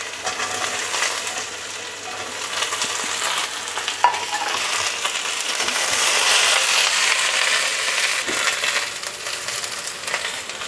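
Drumstick pieces tossed into a pan of frying potatoes, steady loud sizzle with stirring and crunchy scraping, a single sharp clink partway through, no talking.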